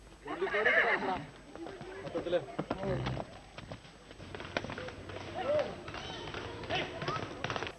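Horse hooves clip-clopping irregularly on a hard surface during a morning ride in Pezhakkappilly, Kerala, with voices talking nearby and occasional horse snorts in the mix.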